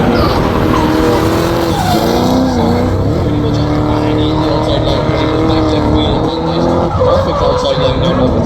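A supercharged V8-powered E30 BMW drifts on a race circuit, its engine roaring loud and continuous while tires squeal in long sustained streaks, with crowd or commentary noise mixed underneath.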